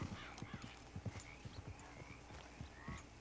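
A horse in Red Dead Redemption 2 clip-clops along in steady hoofbeats with a few whinnies and snorts over the top, heard fairly quietly with no talk.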